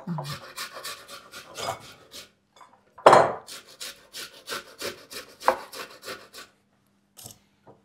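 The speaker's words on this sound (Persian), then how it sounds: "کار سختیه واقعا رنده کردن." Food is scraped over a hand grater for a sauce in a kitchen, a run of rapid, close, rhythmic rasping strokes with a brief pause and a clatter partway through.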